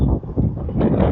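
Gusty outdoor wind buffets the microphone on a downtown Seattle street, a steady low rumble that swells and dips for about a second.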